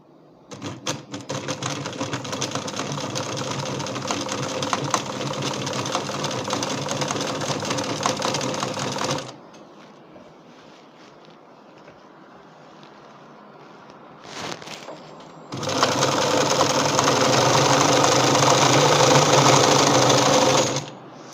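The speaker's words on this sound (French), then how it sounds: "on va passer la machine à coudre, donc pour coudre les ourlets" A sewing machine stitching curtain hems runs in a loud, steady, rapid whir for several seconds, falls silent, starts briefly, then runs steadily again close up.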